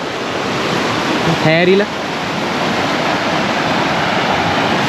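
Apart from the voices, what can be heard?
flood water stream rushing after cyclone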